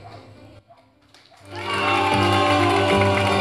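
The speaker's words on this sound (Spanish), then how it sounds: "Muy bien, los aplausos." Guests at a 50th birthday party break into applause and cheering after a quiet start, the clapping swelling loud and sustained over music playing in the room.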